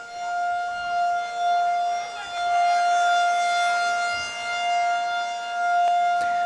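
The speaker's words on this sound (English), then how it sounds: "I think this siren is right on the press box, so definitely loud in here." A loud civil defense siren mounted on the press box of a boys' lacrosse game wails close by, its sustained tone gently rising and falling, with nothing else audible.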